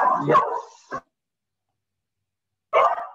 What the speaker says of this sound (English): Sorry about that, dog at home.